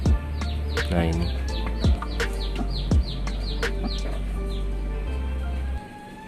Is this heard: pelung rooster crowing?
yes